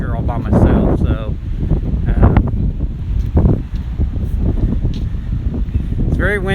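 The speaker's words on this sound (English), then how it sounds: "it's very windy. I'm sure you can hear it" Strong wind gusting across the microphone in an outdoor sculpture park, loud rumbling buffets rising and falling throughout, with a person talking intermittently under the roar.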